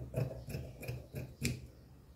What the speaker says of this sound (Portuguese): aqui eu vou cortar o peitoral